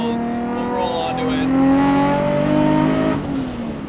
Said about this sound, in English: Today we're in a Mk4 Supra, single turbo Supra, making 950 horsepower at the wheels